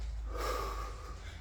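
A single deep inhale through the nose during a knee push-up set in a garage workout, a close, breathy rush of air that swells and fades over about a second.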